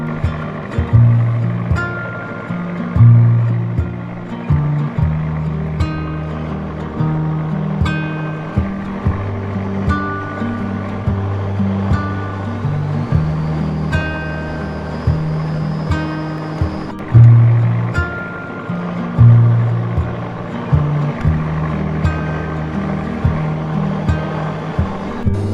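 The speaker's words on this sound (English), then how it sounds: "En route, Scott gives way to a freight ferry heading out into the shipping channel" Tug boat underway through Belfast Harbour water, its engine a steady low throbbing drone with recurring heavier pulses and a faint high whine, carrying on continuously throughout.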